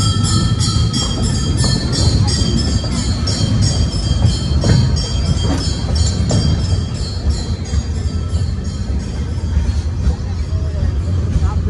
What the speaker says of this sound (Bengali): আমাদের ট্রেন এই 536 কিলোমিটার শিয়ালদা থেকে ট্রাভেল করে এই ঢুকছে হচ্ছে ঠাকুরগাঁও স্টেশন